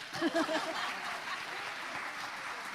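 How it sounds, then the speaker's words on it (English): An audience at an annual meeting applauds the choir, a moderate steady patter of clapping heard from a distance with a brief voice at the start. "You are allowed to applaud for the choir"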